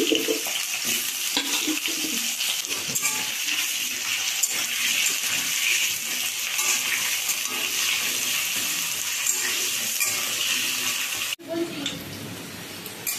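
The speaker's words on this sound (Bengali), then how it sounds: "আলুগুলো ভেজে নিচ্ছি।" Diced potatoes fry in hot oil in a kadai, giving a steady, dense sizzle that runs for most of the stretch before it suddenly drops away.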